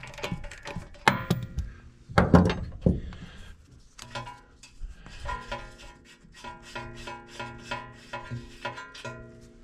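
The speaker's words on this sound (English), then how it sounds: "take your wrench with your 19mm socket on it, and we're going to make sure we're turning it in the right direction." A ratchet wrench with a 19mm socket works loose a tie rod nut, giving bursts of close metallic clicking and rasping that settle into a steady run of ratchet clicks.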